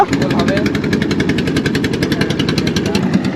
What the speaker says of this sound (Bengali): এই যে আমাদের নৌকাটি এখন ছেড়ে দিল